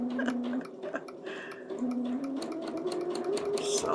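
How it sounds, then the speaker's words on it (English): Sewing machine stitching quilt pieces along a marked line for a block-of-the-month quilt, a steady close mechanical whirr with fine rapid ticking of the needle running throughout, with no talk. "We're going to sew on the line."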